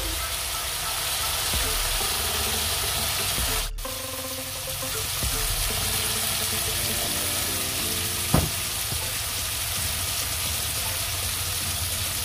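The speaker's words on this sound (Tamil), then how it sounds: "சொரா கருவாடு இது நல்லா, அந்த கருவாடை நம்ம இப்போ எண்ணெயில் வதக்குவோம்." Dried sora fish sautés in oil with turmeric, giving a steady, dense sizzle that runs the whole time, broken by a few brief clanks and stirring scrapes.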